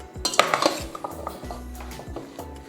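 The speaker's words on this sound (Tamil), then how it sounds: "இப்போ நான் ஆயில் வெங்காயம் தக்காளி பூண்டு எல்லாத்துலேயும் படுற மாதிரி நல்லா கிளறி விட்டுருக்கேன்" Onion, tomato and garlic in oil being stirred in a pot for a curry-leaf garlic kuzhambu, a spoon scraping and clanking against metal in repeated strokes over a low, soft sizzle.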